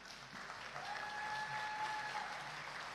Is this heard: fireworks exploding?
no